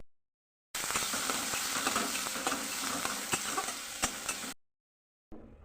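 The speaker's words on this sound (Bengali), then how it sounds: "কড়াইতে তেজপাতা আর জিরে ফোড়ন দিয়ে এবার মশলা দিয়ে সাঁতলে নেব" Bay leaf and cumin seeds tempering in hot oil in a kadai, then spices sautéed for ghugni, giving a steady loud sizzle with scattered crackles and stirring clicks for about four seconds, bracketed by silence.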